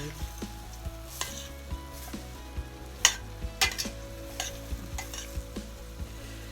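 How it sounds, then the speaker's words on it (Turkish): Chickpeas are stirred and roasted in a pan with spinach, lentils and bulgur dish ingredients nearby, giving a steady soft sizzle broken by repeated scraping clicks of a utensil against the pan, close up with no talking. "Biraz daha karıştırmaya devam ediyoruz. Kavrulsunlar."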